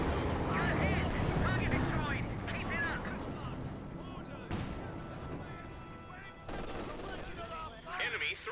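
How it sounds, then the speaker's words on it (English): Mortar shells and artillery fire land close by during a Company of Heroes 2 World War II battle, with dense booms and blasts rumbling over continuous commentary throughout. "Mortar fire then landing close here."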